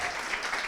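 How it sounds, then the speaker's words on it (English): An audience applauds the judges at an entrepreneur accelerator's final presentations, a short burst of dense, even clapping with no gaps. "Round of applause for our judges."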